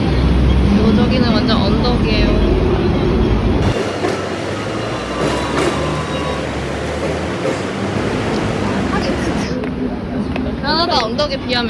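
A Hong Kong subway train runs with a steady loud rumble and rattle throughout, its rolling noise dipping and shifting midway, while people talk faintly beneath it.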